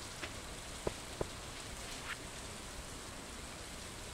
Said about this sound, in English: So it's raining today.